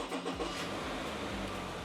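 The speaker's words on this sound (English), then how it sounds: "Yeah, the car starts right up." A hail-damaged Subaru car engine turns over and catches within a second or two, settling into a low, steady idle rumble, close by and moderately loud.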